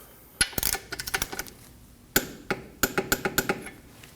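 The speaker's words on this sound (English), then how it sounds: "Once we've torqued the castle nut" A torque wrench tightens a castle nut on a ball joint of a 2003-2006 Subaru Baja, giving two quick runs of sharp metallic ratchet clicks, close and loud, separated by a short pause.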